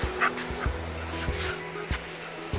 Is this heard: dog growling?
yes